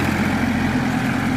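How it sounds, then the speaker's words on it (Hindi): A modified Massey Ferguson 241 tractor engine runs during a final test, a loud, close, steady low rumble with a constant hum and no speech. "तो ये आप आवाज़ सुनिए और इस ट्रैक्टर की स्पीड वगैरह सब कुछ मैंने चेक की है"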